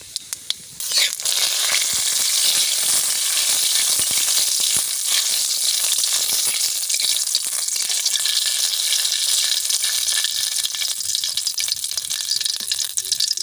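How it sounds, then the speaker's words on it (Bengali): A few cumin seeds and a bay leaf hit hot mustard oil, bursting into a loud, steady sizzle that hisses and crackles without letup for over ten seconds. "সরিষার তেলের উপর দিয়ে দেব গোটা কয়েক জিরা আর একটা তেজপাতা"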